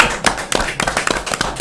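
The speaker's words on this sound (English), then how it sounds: "A round of applause for that." A few people clap briefly at a school event launching a jingle competition, giving scattered, uneven hand claps at close range for under two seconds.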